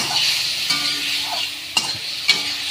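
Ground spice paste fries in a pan for an egg curry with potato and pointed gourd. A bright, continuous sizzle runs throughout, broken by a couple of short scraping stirs.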